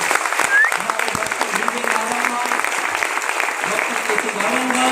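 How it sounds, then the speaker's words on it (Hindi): Loud audience applause fills the room at an Indian business event honoring a doctors' team, steady dense clapping throughout with a faint crowd murmur underneath. "ऐसे हमारी इस माई लाइफ स्टाइल की डॉक्टर की टीम के लिए जोरदार तालियां होनी चाहिए।"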